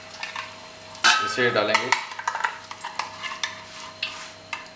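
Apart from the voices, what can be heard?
chicken being stirred and fried in a pan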